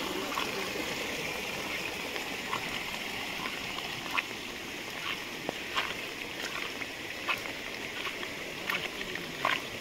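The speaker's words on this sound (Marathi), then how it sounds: "आज खूप पाऊस पडला त्यामुळे पाणी पण एकदम फ्लोईंग आहे." A stream swollen by heavy rain rushes steadily in a continuous wash of water, fairly faint and even, with small splashes and clicks scattered through it.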